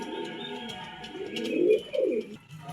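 Racing pigeons coo in soft, throaty, rolling calls, several overlapping nearby against a faint background hum.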